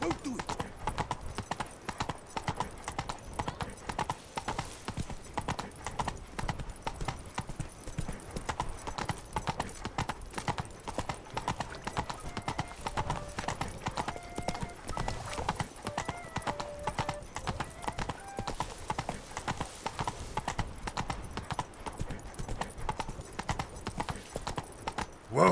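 Roach, Geralt's horse in The Witcher 3, trots with a steady, rhythmic clip-clop of hooves that runs the whole way through, with an occasional whinny and voices talking over it.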